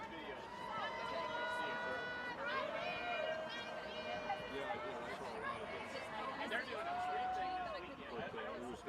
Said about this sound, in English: the crowd seems to be gathering a little bit more